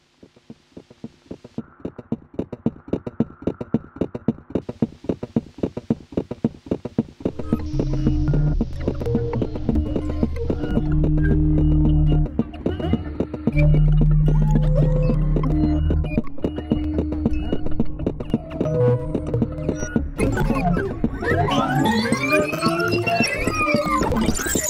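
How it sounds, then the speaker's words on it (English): A granular looper synthesizer plays back three layered loops chopped into tiny grains: a rapid ticking pulse at first, then dense droning tones joining, and sweeping pitched swells near the end. "this weird granular looper where you're kind of recording loops, putting loops in there, but then you're playing them back in little granules"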